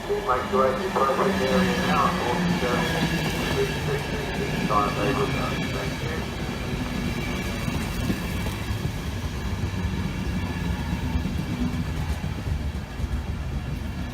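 Passenger train 1A26 running from Leeds to London at Grantham, a steady loud rumble and engine drone that holds throughout, with a voice talking over it.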